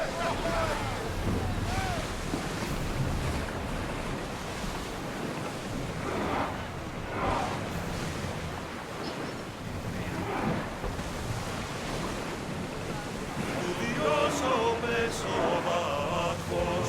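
Ship under sail on open ocean in Assassin's Creed Odyssey, with a steady rush of waves and wind that runs throughout, and voices breaking in near the end.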